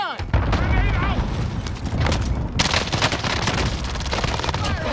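Dense, loud gunfire and booming shots erupt in a Call of Duty Warzone match in Verdansk, bursts crowding together over a rumbling backdrop, with players talking over the action.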